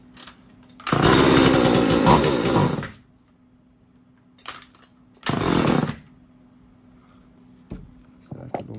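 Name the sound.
Stihl or Husqvarna chainsaw running after idle screw adjustment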